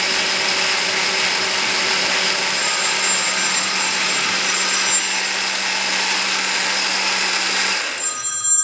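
A blender on liquefy setting purees chili peppers with beef broth, a loud, close, steady whirring drone that holds evenly and then cuts off just before the end.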